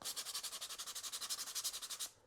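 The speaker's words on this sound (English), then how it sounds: "I've done this before with just a sanding pad" A sanding pad rubbed back and forth along the rough edge of a CNC-cut sign, a quick run of about twenty rhythmic, close rasping strokes that stop abruptly, with no voices.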